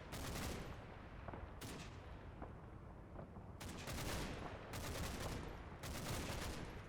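Incoming artillery barrage in Combat Mission: Battle for Normandy, several loud rumbling bursts of shellfire arriving in irregular waves, with scattered sharp cracks between them and no voices.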